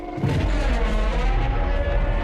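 Gunfire in the battle royale game PUBG Mobile, a booming, heavy report that hits after a brief quiet lead-in and then lingers as a dense, rumbling wash for about two seconds.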